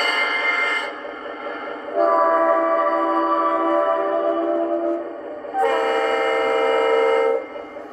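Model locomotive horn from a USAT GP7 with a Zimo MS950 sound decoder, several sustained multi-chime horn blasts of differing tones separated by short gaps, close and clear with no talking.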